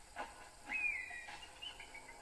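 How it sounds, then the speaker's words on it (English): Birds chirp in Assassin's Creed 3, faint whistled calls with a rising tweet and a couple of short notes over a quiet ambient background. "I hear birds."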